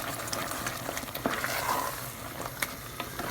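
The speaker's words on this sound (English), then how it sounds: "So I'm going to chuck in my Chinese mushrooms." Chinese mushrooms are stirred into a risotto sizzling in a pan, giving a steady, moderately quiet frying hiss broken by light clicks and scrapes of the spoon.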